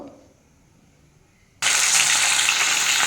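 Halved fish heads hit hot oil in a kadai: after a brief near-silent pause, a loud, dense sizzle bursts out and holds steadily to the end.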